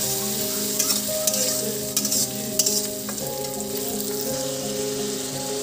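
Whole spices fry in a pan before mutton curry, a loud, constant close sizzle with a few spatula taps and scrapes, heard alone without speech.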